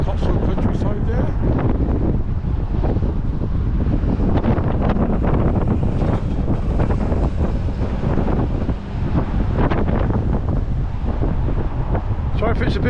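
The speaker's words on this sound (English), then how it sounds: "Sorry if it's a bit windy, if you can hear the wind, I do apologise." Strong wind buffets the microphone outdoors in open Cotswold countryside by a village green in Broadway on a sunny winter day, a loud continuous rumbling roar that fills the whole stretch with only brief dips.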